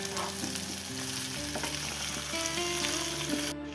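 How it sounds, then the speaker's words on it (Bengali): Ginger-garlic paste frying with spices in a pan for a Bengali green jackfruit kalia, a steady close sizzle broken by a few scraping stirs, with no voices. "আদা রসুনের পেস্টটা দিয়ে আবারও এই সব উপকরণগুলোর সঙ্গে একটু নেড়ে চেড়ে নেব"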